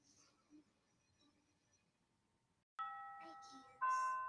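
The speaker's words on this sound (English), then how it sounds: "Somebody ring the doorbell." Quiet murmuring, then a two-tone electronic doorbell chime rings out, followed by a second chime a moment later, fairly loud against the hush.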